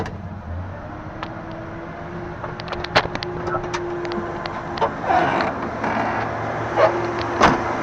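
Low steady idle of a 1977 Power Wagon pickup truck engine in drive, humming close by, with scattered clicks and clunks of handling nearby throughout.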